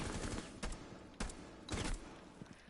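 Gunfire in Rainbow Six Siege: several sharp shots fired at irregular intervals over a steady dense background of game noise, fairly quiet overall.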